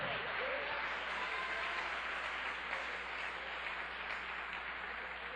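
Congregation applause at a church service, a steady rushing wash of many hands clapping that holds at an even, moderately distant level throughout, with no clear speech.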